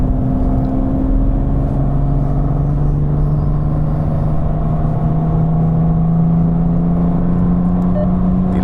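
A car climbs uphill through Exmühle on the Nürburgring, its engine droning loud and steady with a rising whine as it pulls through the corner.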